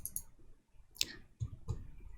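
A few quick clicks of numbers typed on a computer keyboard, close and soft, in short bursts separated by brief pauses, with no one talking.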